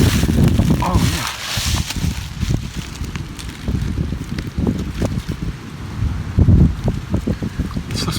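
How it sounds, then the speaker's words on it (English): Strong wind buffets the microphone outdoors during a metal detecting dig in Virginia, a loud, continuous low rumble and gusting roar with voices speaking under it. "there's a lot of wind"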